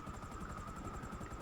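A helicopter in GTA V, its rotor chopping in a fast, steady pulse over a constant engine whine, loud and close throughout.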